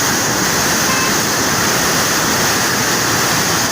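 Reddish, muddy Chenab River water gushes hard at the Head Marala headworks in a loud, steady broadband roar that fills the whole clip with no talk.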